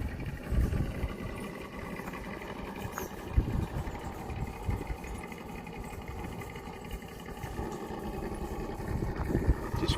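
Small RC car with headlights and brake lights crawling over an obstacle on mean-treaded tires, a steady whining motor hum with uneven surges as it creeps along, fairly close and continuous throughout.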